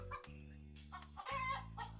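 Chickens cluck in a farming video game over a low droning game soundtrack, with several short, fairly faint clucks scattered through the music.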